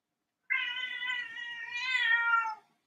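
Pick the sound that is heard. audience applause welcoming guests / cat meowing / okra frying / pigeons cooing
cat meowing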